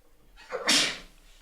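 A single sneeze from a person indoors, a short sharp burst of breathy noise rising quickly and trailing off within about a second, close and fairly loud against an otherwise quiet room.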